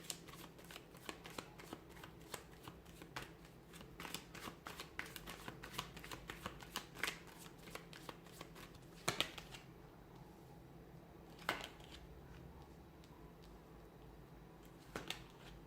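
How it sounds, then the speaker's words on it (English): Repeated crisp riffle-and-snap bursts of tarot cards being shuffled, steady and close for several seconds, then a few isolated card slaps with quiet gaps. "give the cards a shuffle"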